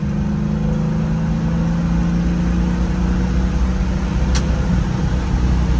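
A 1967 Shelby GT350 with a four-speed, pulling in fourth gear from about 50 mph: a steady, loud in-cabin engine drone with road rumble, holding a constant low note throughout.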